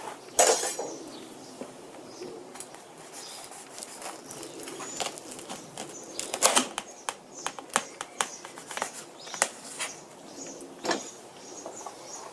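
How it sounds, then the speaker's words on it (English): Knife slicing a wagyu roast beef sandwich, deli style, into pieces: a string of short crisp cuts and clicks against a board, close by, sparse and irregular with quiet gaps between. "And now I will cut these things in pieces."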